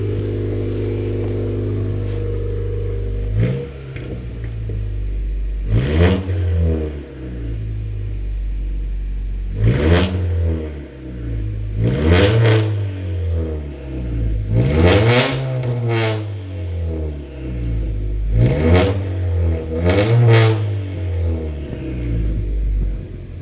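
A 2018 Honda Accord fitted with a PRL front pipe exhaust revs repeatedly from idle, with about six sharp throttle blips rising and falling over a steady rumbling idle, loud and close with no talking.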